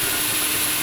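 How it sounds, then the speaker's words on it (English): An RC car drive shaft on an FTX Vantage flaps at half throttle, giving a brief, loud, dense whirring roar of motor and shaft. "The drive shaft will just start flapping like crazy."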